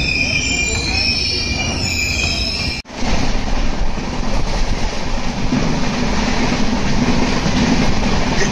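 The Goa Sampark Kranti Express running on rails, a loud continuous rumble with rattling and squealing wheels heard from inside a carriage, with a brief sharp drop in the noise before it resumes.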